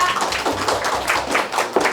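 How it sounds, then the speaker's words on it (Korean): Applause for a guest speaker being welcomed to the stage at a lecture event, heard as a short burst of close, irregular clapping from a small audience, loud and steady for about two seconds. "큰 박수로 인사드리겠습니다"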